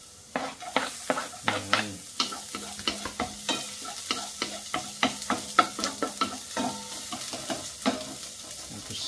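Garlic fries in a pan with a soft, steady sizzle, broken by a run of sharp clinks and scrapes from stirring; a voice says one brief word near the start.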